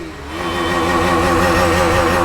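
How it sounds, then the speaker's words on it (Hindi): Loud, steady motorcycle exhaust with a stock factory-fitted pipe, the engine holding a rough, droning idle that swells slightly and then stays constant up close, with no talk over it. "ये जो आपकी बाइक है ना, हाँ जी, ये ज्यादा शोर करती है"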